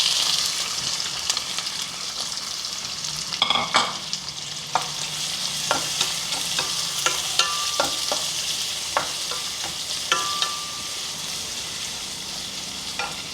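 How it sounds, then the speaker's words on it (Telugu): Green chilies and onions frying in hot oil with cumin and mustard seeds, with steady sizzling and repeated sharp clicks and scrapes of stirring in the pan, heard alone without talk. "పచ్చిమిర్చి, ఆనియన్స్ వేసుకుందాం ఇప్పుడు."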